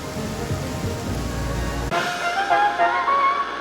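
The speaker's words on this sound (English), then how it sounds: "I thought the rain would hurt." Steady rain falling in a video game, a dense continuous hiss that shifts abruptly partway through to a thinner patter with faint tonal game sounds layered over it.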